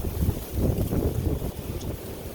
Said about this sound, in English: It is quite a windy day.